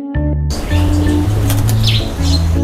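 A released Javan myna beats its wings in a close flurry and gives a few chirping calls, over a steady low hum, outdoors near an apiary.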